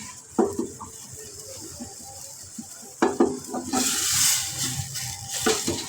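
Potato slices going into hot oil in a pan set off a few clatters, then a loud, steady sizzle of frying rises and holds, with stirring scrapes along the way.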